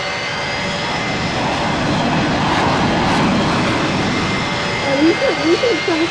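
Jet airliner engines at full takeoff throttle roar loudly and steadily from a plane-spotting spot at an airport, a broad sustained rumble that swells slightly, with wind buffeting near the end.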